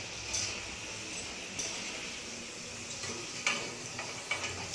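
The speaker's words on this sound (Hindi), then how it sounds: "ब्राउन होने तक फ्राई करना है" Okra (bhindi) frying in a pan until brown, a steady close sizzle with occasional spatula stirs and small clinks against the pan, no talking.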